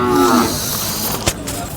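A bull at a cattle market lets out a loud, close moo, followed by a brief sharp knock and low background noise.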